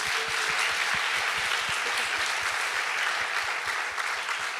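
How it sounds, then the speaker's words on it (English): Sustained applause from a graduating class of 2014 audience at a year-end school ceremony, a steady dense wash of clapping that stays loud and even throughout without pause. "Let's give another round of applause to the senior speakers."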